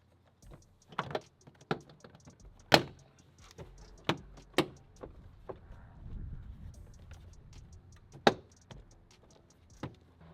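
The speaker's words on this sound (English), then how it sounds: "So now we're free to put the door panel back on. Just line up all the clips." Plastic clips on a Subaru STi interior door panel snap into place as the panel is pressed back on, a series of sharp, close, separate clicks and knocks at irregular intervals in a quiet space.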